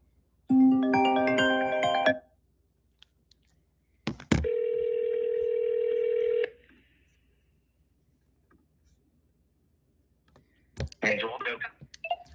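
A phone call is placed: quick dialing tones, then a long steady ringback tone, followed by more clicks and a brief burst of sound, with silence between.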